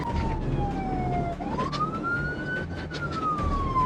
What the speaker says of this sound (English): prompting the deputy to re-engage the siren